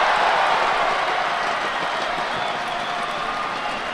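Crowd at the Paris 2017 Judo Grand Slam cheering and applauding, a dense, steady roar of clapping and voices that fills the arena and stays loud throughout.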